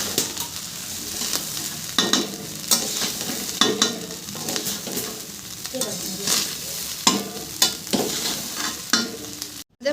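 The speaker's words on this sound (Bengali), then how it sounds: "এখন ফ্রাইড রাইসের জন্য ভাতগুলি ভালো করে ভেজে নিই।" Cooked rice being fried in a pan for fried rice: a steady sizzle broken by frequent scraping, clattering strokes of a spatula tossing the rice, close and busy for the whole stretch.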